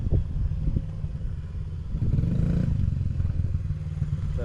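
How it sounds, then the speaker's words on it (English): A motorcycle idles and rolls at its slowest speed around a tight circle in a riding drill, giving a steady low engine rumble with faint clatter and no talk. "Let's watch EJ go around at his absolute slowest."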